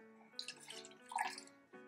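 Half a cup of water poured into a pot with almond milk and oats, a quiet splashing pour of under two seconds over soft background music, close and faint.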